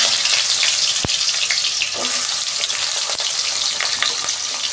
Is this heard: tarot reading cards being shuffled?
no